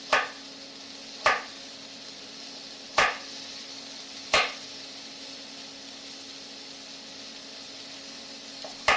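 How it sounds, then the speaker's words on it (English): A knife chops carrot pieces on a cutting board for pad thai, five crisp, sharp knocks spaced a second or more apart, each clear and close, over a faint steady kitchen hiss. "cut them at a perpendicular angle."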